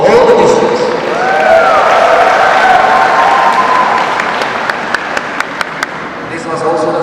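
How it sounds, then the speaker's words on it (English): An audience at the closing ceremony of a badminton championship gives a big round of applause, broad steady clapping that tapers into a few sharp isolated claps, with a voice talking over it early on. "a big round of applause for all the districts"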